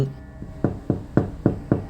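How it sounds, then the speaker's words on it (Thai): Knuckles rap on a car window, six sharp knocks in a steady, unhurried rhythm, close and fairly quiet against a silent background. "เขาเดินมาเคาะกระจกรถผมอีกครั้ง"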